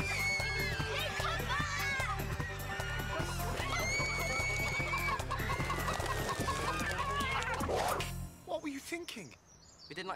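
Chickens cluck and squawk in repeated bursts over a steady low rhythmic backing, lively and close, before the sound drops away and thins out near the end.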